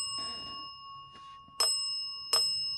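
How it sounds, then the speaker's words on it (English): A bell on a possessed clown doll rings in short bursts: a soft jingle, a fainter one, then two sharp, bright dings, close and clear in a quiet room. "and ringing the bell for us."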